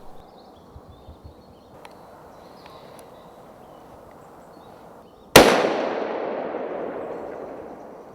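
A single rifle shot cracks out loud and close at a roebuck during a stalking hunt, its sharp report trailing into a long echoing decay after several seconds of quiet countryside.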